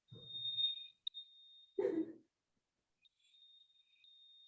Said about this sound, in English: That might be your actual fire alarm.